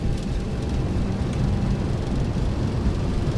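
Aircraft thrust reversers roar after touchdown in a flight simulator game, a steady, dense, rumbling rush of engine noise that stays loud and unbroken throughout.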